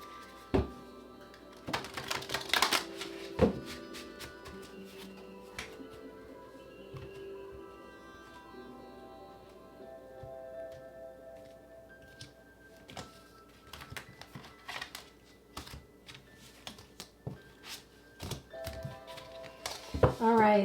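Tarot cards are shuffled for a reading, giving scattered dry clicks and thumps in brief bursts, with a louder flurry near the start and again at the very end over a quiet room.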